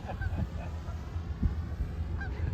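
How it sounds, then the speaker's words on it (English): Geese honking near water, with several scattered calls over steady low outdoor rumble, as if passing overhead. "Oh, look at the geese."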